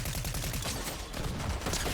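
Rapid gunfire from the Fortnite video game crackles in a dense, continuous burst, with repeated shots blending into a loud, steady barrage for the whole moment.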